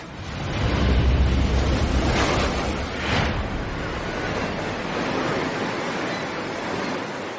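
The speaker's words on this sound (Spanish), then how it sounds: "Huntington Beach, al sur de Los Ángeles, es famosa por la rompiente de olas provenientes del Pacífico." Pacific Ocean surf breaking at Huntington Beach south of Los Angeles, a loud broad roar that swells early and then settles into a steady wash, with no voices.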